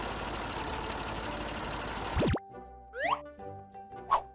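A cartoon bulldozer's engine rumbles steadily for about two seconds, then cuts off with a rising zip, followed by a few bouncy cartoon plops and boings.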